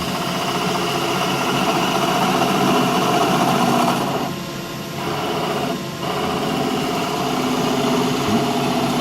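A wood lathe runs with a continuous high mechanical whine as a skew chisel cuts the spinning wood, with a dip and a brief pause partway through; the sound is loud and close, and nobody speaks.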